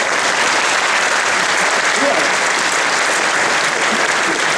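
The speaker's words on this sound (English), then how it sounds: "yeah, you can clap, it's okay." An audience at a 2014 Nouman Ali Khan lecture on foundations of faith in Hamburg applauds: a dense, even clapping from a full hall that holds steady and loud from start to finish.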